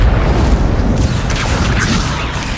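Loud, booming spell blasts from the Hogwarts Legacy video game roll on continuously for the whole stretch, a dense rumbling wash of magical explosions with no speech heard.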